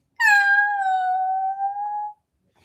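A drawn-out, loud cat-like yowl with strong harmonics, like a cat singing in a fairy tale, holding one wavering note for about two seconds before stopping abruptly.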